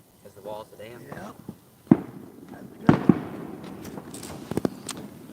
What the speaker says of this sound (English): Man, these fireworks are going off.